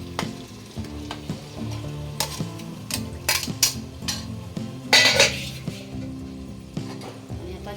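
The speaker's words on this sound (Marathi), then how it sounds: "हे सगळं तेलात मसाल्यात भाजून घेऊया" Tripe (vajri) frying in oil and masala over full heat, with steady sizzling and repeated scrapes and clinks of a spoon stirring in the pan, close and fairly quiet.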